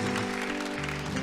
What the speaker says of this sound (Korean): 한번 박수로 한번 축복하겠습니다